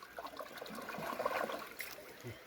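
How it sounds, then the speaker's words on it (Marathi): Something is being washed in water, with quiet splashing and trickling close by in short uneven bursts. "धुवून दाखवा, पण सोडू नको पाण्यातून धु"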